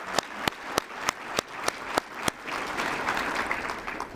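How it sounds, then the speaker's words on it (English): An audience at a Bay Area Chamber of Commerce community luncheon gives the sponsors a round of applause, starting as evenly spaced single claps and swelling into fuller, continuous clapping from the room. "Let's give our sponsors a round of applause."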